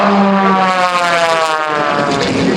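An aerobatic airplane performs at the 2019 Fort Worth Bell Helicopter Airshow, its engine a loud, continuous buzzing drone that shifts slightly in pitch as it maneuvers, with no talking.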